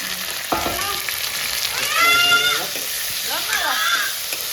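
Meat and onions fry with spices in a hot pan, a steady close sizzle with stirring scrapes, while voices talk over it.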